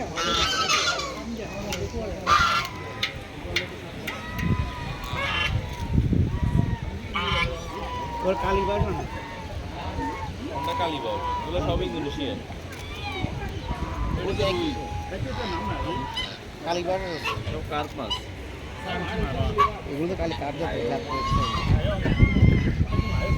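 Ducks or geese honk repeatedly at a heritage park pond shared with fish, the calls scattered and overlapping at a moderate distance while people talk over them.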